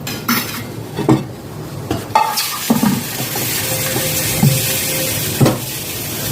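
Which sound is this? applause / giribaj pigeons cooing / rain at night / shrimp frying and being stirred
shrimp frying and being stirred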